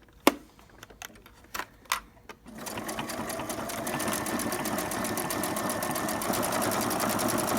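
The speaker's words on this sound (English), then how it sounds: "So I'm sewing it closer to the edge, kind of get my opening closed." A sewing machine stitches close to the edge of a holiday mug rug: a few sharp clicks and taps first, then a steady, rapid mechanical whir that runs continuously, close and even.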